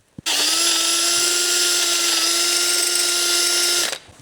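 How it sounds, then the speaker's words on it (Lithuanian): A power drill bores a hole during workshop preparation of an enduro motorcycle for a race. It runs as one loud, steady, high whine for about four seconds, starting and stopping abruptly. "Gręšim."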